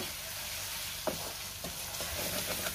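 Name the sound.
sautéing masala in oil for prawn curry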